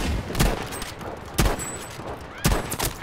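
Sniper rifle shots in the video game Battlefield V, fired without a scope: three sharp, loud cracks about a second apart, each with a short echoing tail over steady battlefield background noise.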